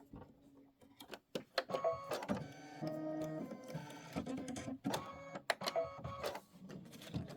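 An embroidery machine stitches bud fills on a Kimberbell Star Spangled Beauty Sea to Sea quilt block, giving a steady, close mechanical whir with rapid rhythmic needle clatter and intermittent sharp ticks throughout.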